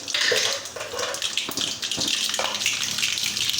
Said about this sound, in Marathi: तेल आपलं गरम झालंय मोहरी टाकून घेते